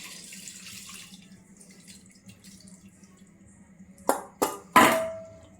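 Faint trickle of water early on, then three quick splashy pours in succession near the end, close by, as water goes into a clay pot of fish and okra curry with tamarind.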